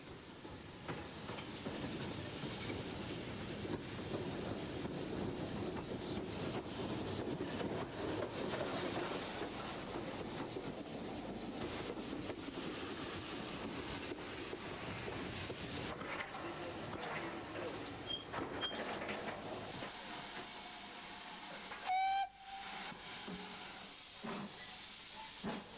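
A GWR 5101 class 2-6-2 tank steam locomotive on the West Somerset Railway hisses and chuffs nearby as it works, a long rushing noise with a brief sharp whistle-like note near the end.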